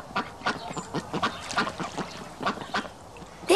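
Ducks quack repeatedly in quick, uneven bursts, several calls overlapping at moderate volume, with no talking.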